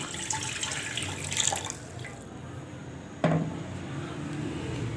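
Water and oil being poured into a pressure cooker before steaming chicken: a steady splashing pour runs through most of the clip, with a sharper splash or clatter midway and no talking.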